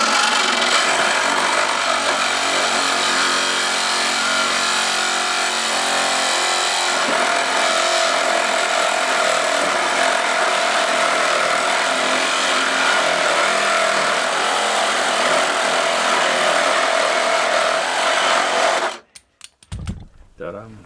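An old table saw fitted with a carbide blade cuts continuously for about nineteen seconds with a loud, dense whine and rasp, then stops abruptly, followed by brief clattering handling noises.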